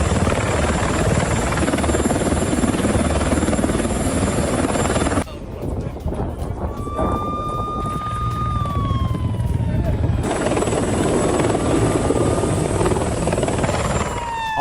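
Helicopter flying near the Gaza border, a loud continuous rotor drone and engine whine that cuts out briefly in the middle before returning, with a siren-like rising and falling tone heard faintly behind it.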